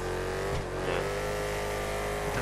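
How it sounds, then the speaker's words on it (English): Turbocharged car launching hard in GTA 5, a steady, loud engine roar with turbo whine filling the whole short stretch, no talking over it. "That turbo's louder than an actual car."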